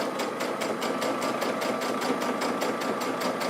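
A sewing machine topstitches a patch pocket at close range, running in a steady, rapid mechanical rhythm with regular stitch pulses throughout, and no talking.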